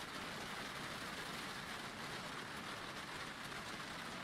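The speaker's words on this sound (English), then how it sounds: "No sign of this rain stopping." Steady rain falling in a racing sim video game, a dense, even hiss of drops on surfaces that stays constant and fairly soft throughout with no voices.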